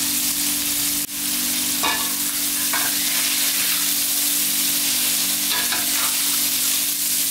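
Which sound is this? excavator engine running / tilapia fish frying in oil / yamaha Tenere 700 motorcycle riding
tilapia fish frying in oil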